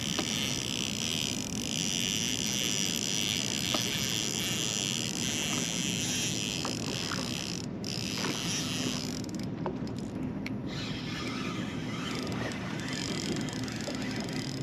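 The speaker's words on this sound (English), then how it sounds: "Listen to that 7GX spinning reel sing." A 7GX spinning reel's drag buzzes and ratchets continuously as line pulls out while bass fishing on Lake St. Clair, over outdoor wind and water noise, with a few brief pauses.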